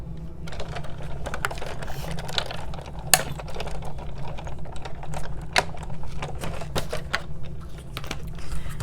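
Vanilla cardstock fed through a die-cutting craft machine, a steady low mechanical hum with a dense patter of small clicks and ticks and one sharp snap, close and continuous without talking.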